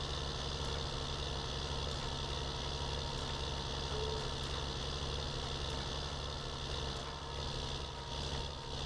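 A tractor on row crop tires drives through a canola field in Farming Simulator 19, its engine a steady, droning hum that runs unbroken and fairly quiet throughout, with no talking.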